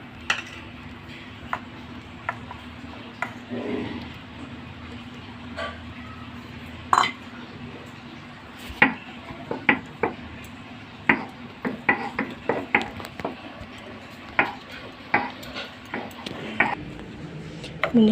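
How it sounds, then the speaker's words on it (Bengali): Fried onion, garlic and chili are ground on a stone slab, heard as scattered clinks, knocks and scraping taps that grow busier toward the end over a quiet background with some voice. "আমি এগুলো দিয়ে শিলে বাটবো"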